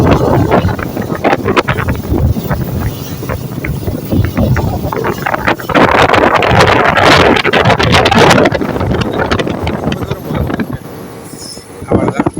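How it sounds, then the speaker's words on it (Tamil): Diesel engine of a passenger train on the Shoranur–Nilambur line, a loud steady rumble with rattling wheels and wind buffeting the microphone, someone talking beneath it. "இன்ஜின் சவுண்டில் நான் பேசுகிறது கேட்கவே கேட்காது."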